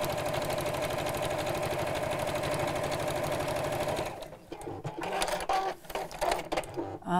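A domestic sewing machine runs steadily, stitching a fabric project close to the edge during a half-yard sewing session, its even mechanical whir filling the first four seconds before it stops and faint handling clatter and a voice follow.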